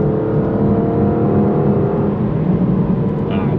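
An Aston Martin Vantage V12 engine builds at about a third throttle, a close, smooth rising growl that holds strong and steady throughout.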